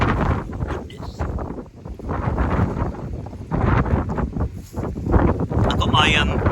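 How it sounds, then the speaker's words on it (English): Strong gusting wind during Storm Darragh in Cornwall buffets the microphone with loud, rumbling low roars that swell and ease in gusts, while a person talks over it. "the wind is certainly cold, and they're gusting up to like between 40 60 miles per hour"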